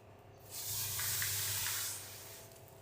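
Thalipeeth dough laid onto an oiled tava, setting off a sudden loud hiss and sizzle that swells for about a second and a half, then eases back to a quieter fry.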